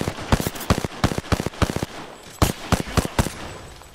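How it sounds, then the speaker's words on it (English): Rapid bursts of gunfire in the video game Apex Legends ring out in quick clusters of sharp, loud cracks, with a short lull midway before another volley, and no talk over them. "I'm getting shot!"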